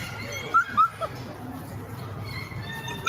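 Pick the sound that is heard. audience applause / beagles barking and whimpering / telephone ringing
beagles barking and whimpering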